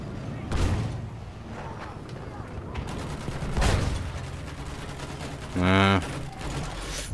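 Gunfire in the online shooter Battlefield 1: scattered loud shots and bursts ring out against a steady background din of battle, with a brief harmonic tone near the end and voices mixed in.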